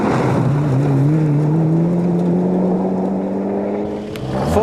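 A Mitsubishi Lancer Evo 5 Group N rally car, four-wheel drive and turbocharged, races at the 2001 Limerick Rallysprint, its engine note climbing steadily in a loud, sustained pull before easing briefly near the end.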